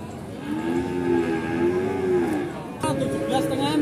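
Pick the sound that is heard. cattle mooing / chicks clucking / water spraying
cattle mooing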